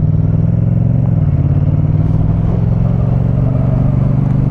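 A motorcycle engine on a first ride hums steadily and close, with a slight shift in pitch from a light, gentle blip of the throttle while cruising. No one speaks.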